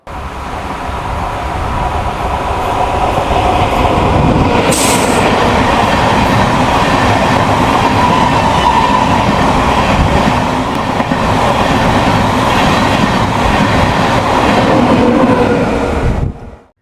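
A passenger train rolls past at a crossing in Kerala, a loud, continuous rumble with rhythmic clickety-clack of wheels on rail joints and a faint squeal, close by, then cutting off abruptly.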